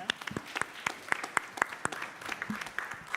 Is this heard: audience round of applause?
yes